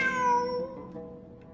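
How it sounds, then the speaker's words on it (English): A cat in a video game gives a single clear meow that fades out quickly, heard on its own. "Wait, there it is! The cat!"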